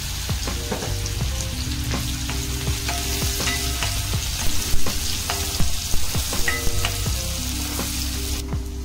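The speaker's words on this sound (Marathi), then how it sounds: "कांदा आहे तो आपण चांगलं जरा भाजून घेऊया।" Onion fries with curry leaves and asafoetida in a pan, a loud, dense sizzle over busy stirring. Clicks and scrapes of a spoon come close together, clustering more heavily partway through, and no voices are heard.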